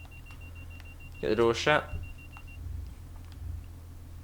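Two quick electronic buzzer tones from a train guard ring out aboard a Class 142 diesel unit on the Cardiff City network, cutting over a low engine rumble while a voice speaks nearby.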